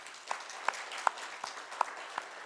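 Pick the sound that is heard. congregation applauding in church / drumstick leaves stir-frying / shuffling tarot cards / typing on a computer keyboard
congregation applauding in church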